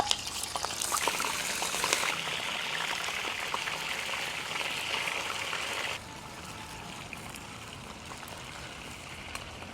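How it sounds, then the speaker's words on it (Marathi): Pomfret fish shallow-frying in a pan of oil gives a steady, soft sizzle and crackle, brighter at first and then settling into a quieter, even hiss. "तेल पॉपलेट आपण आता याच्यामध्ये हलके फ्राय करून घेऊ"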